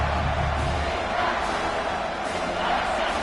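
Big stadium crowd in a football video game, cheering to fire up the defense near the goal line, a broad steady roar that swells and dips slightly over a few seconds.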